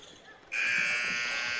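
A buzzer at a high school basketball game ends the quarter, sounding as a sudden loud steady electronic tone that holds to the end, while an announcer speaks over it.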